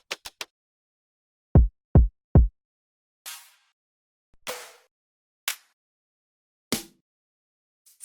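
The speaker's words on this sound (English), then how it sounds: "This is all the drum layers individually." Layered electronic drum sounds play one at a time: quick clicks, three deep punchy kicks, then separate snare and hi-hat style hits with gaps of silence between them.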